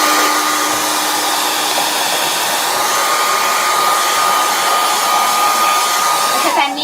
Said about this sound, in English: I'm going to take my handy dandy blow dryer and I'm going to blow dry it